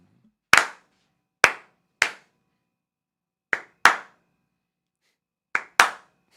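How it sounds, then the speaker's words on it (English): Slow, deliberate hand claps, seven sharp single claps spaced irregularly about a second apart, loud and close, alone with silence between them in a sarcastic standing slow clap on a sports talk show. "Standing slow clap for that comment."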